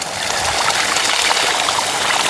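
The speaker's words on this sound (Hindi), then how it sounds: "झरना तक है वो साथ में मशीन की आवाज़ तक है।" Loud, close and constant, a waterfall pours alongside a running water machine, giving a dense hissing roar with no pauses.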